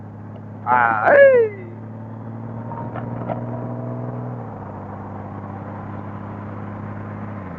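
A 2025 Honda motorcycle engine gives a steady, low, droning rumble that eases slightly midway, heard close and continuous after a short spoken word near the start.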